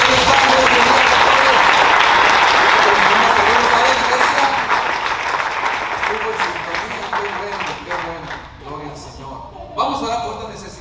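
Church congregation applauding together with the pastors, a dense, loud burst of clapping that gradually thins and fades, with a few scattered claps and a brief swell near the end.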